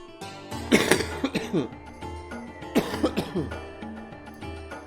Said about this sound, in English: I can't turn away more from my microphone while coughing